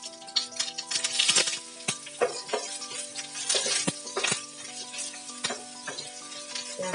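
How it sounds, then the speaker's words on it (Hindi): Onions sizzling in hot oil in a pan on high heat while cooking aloo matar sabzi, a steady close frying hiss broken by repeated stirring scrapes and clinks, no speech. "प्याज को मैंने 1 मिनट तक तेज आंच पर पकाया है।"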